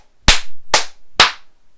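Three sharp hand claps ring out close and loud, evenly spaced about half a second apart, with no talking around them.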